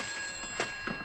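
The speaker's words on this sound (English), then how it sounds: "That's the phone, Mr. Charles." A telephone rings in a quiet room during a Supermarionation puppet drama, its bright bell bursts sounding twice in quick succession over a faint steady hum.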